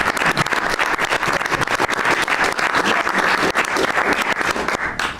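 Dense, loud applause from a room full of people at a White House cabinet meeting, continuous clapping throughout with no speech over it.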